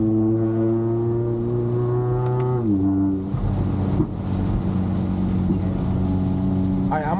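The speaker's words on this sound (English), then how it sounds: "Okay, downshift one more time." Catless Toyota Camry engine droning loudly in manual mode in rainy city traffic, its steady harmonic tone dropping in pitch as it downshifts, then a rougher, broader rumble continuing close by.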